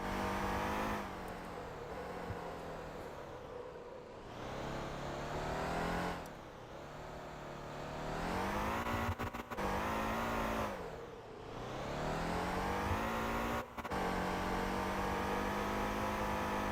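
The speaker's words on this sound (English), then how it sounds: "when I accelerate like that, it's nice to have that little sound. It sounds like the engine is really working" Car engine in the Motor Town driving game revving hard while accelerating, a loud continuous engine whine that rises and drops with several gear changes, no speech.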